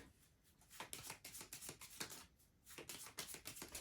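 Lordling cards from the board game Dark Ages: Heritage of Charlemagne being shuffled into a new deck: close, crisp riffling bursts in quick succession, with a brief pause midway and no talking.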